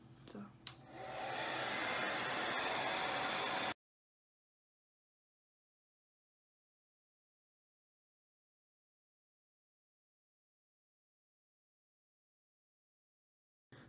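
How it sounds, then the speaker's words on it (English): A blow dryer on low heat and low speed runs steadily for about four seconds with a soft, even whoosh, then cuts off into silence. "I put my blow dryer on low heat and usually low speed"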